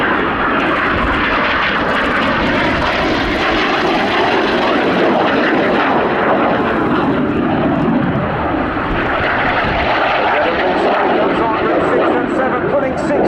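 Red Arrows jets flying a tight formation display with crossing turns, a loud continuous roar of engines that swells and fades slightly as they pass, with a voice talking over it.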